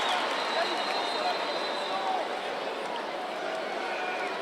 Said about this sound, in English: Gets a massive round of applause